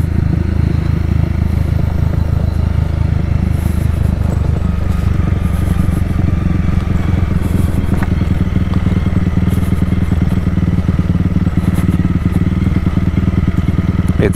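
A motorbike riding a rocky, semi-paved mountain trail in the Dalat mountains of Vietnam, its engine droning loud and steady throughout with rattling and clattering from the rough surface, heard close up without talk.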